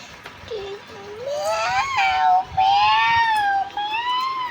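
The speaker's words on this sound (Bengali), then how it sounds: "পিছি মিয়া মিয়াও করছে" A cat meows repeatedly in drawn-out, wavering cries, close and fairly loud, with short gaps between calls and faint background noise.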